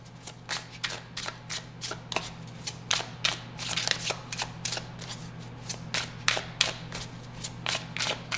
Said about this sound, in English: let's clarify all the cards